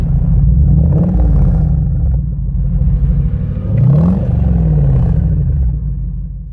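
Supercharged 4.2-litre V8 Jaguar XKR engine revving: two loud throttle blips rise and fall over a deep, close idle rumble, with no talk.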